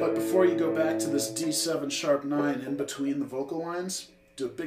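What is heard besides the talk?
No everyday noises stand out.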